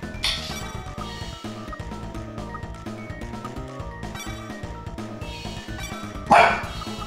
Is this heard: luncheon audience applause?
no